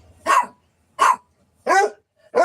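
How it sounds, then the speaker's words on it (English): Dog barking four times in loud, evenly spaced single barks with short silent gaps between them, close to the listener and alone without talk. "For what reasons are you barking?"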